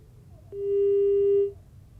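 A single steady telephone busy tone sounds for about a second, loud and clear over faint line hiss, as a phone connection to a reporter fails during a news broadcast.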